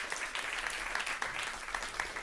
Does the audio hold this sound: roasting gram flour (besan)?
no